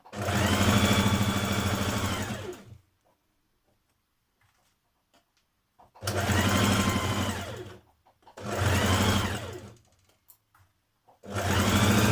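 Sewing machine stitching the side seams of trousers, running in four steady bursts of a few seconds each with short silent pauses between, close and clear with no talking.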